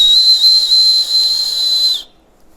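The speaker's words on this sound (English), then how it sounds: "so now let's test the fingerless whistle" A loud, piercing fingerless mouth whistle held as one sustained high shrill note for about two seconds with slight wavering, close and dominant, then cutting off abruptly into silence.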